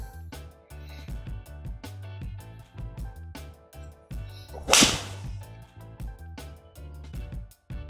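A single sharp swish and crisp strike of a Ping Blueprint S iron hitting a golf shot, standing out once midway above a soft, pulsing background of low rhythmic thumps.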